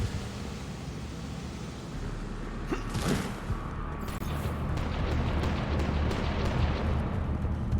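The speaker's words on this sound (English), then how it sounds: "Somebody wasting all their grenades back there?" Grenade blasts and combat noise from the video game Mass Effect 3 roll on as a dense, rumbling roar, with a sharper burst of explosions partway through and continued crackling debris afterward.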